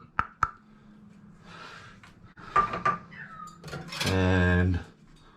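Crushed Doritos and corn flour are stirred together in a bowl, with a few sharp clinks, light scraping and rustling. A short, loud, steady buzzing tone near the end overlaps the mixing.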